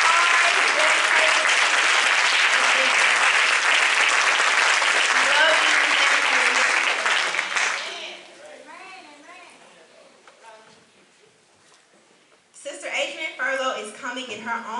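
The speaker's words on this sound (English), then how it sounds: "let's stand right now and let's clap for him. If you feel like standing ovation," Church congregation giving a standing ovation during a pastor's appreciation service: loud, dense applause for about eight seconds, fading out into scattered voices and chatter, then a burst of talking or clapping near the end.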